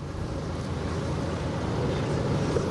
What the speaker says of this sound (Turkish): uçak seslerini duymak mümkün